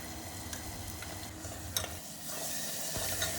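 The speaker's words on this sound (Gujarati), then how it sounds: "હળદર મીઠું નાખીને એક વખત સરસ રીતે મિક્સ કરીને ધીમા ગેસે સાંતળતા જવાનું છે" Beans of field bean and cowpea being sautéed in a pan with turmeric and salt over a low flame, giving a steady close sizzle with light scraping stirs and no talking.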